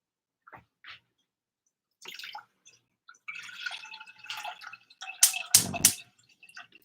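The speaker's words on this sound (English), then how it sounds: "I'm going to fill this with 3 cups of water." Water runs into a cooking pot in short, irregular bursts, with sparse drips and splashes building into louder gushing pours near the end, close and without talk.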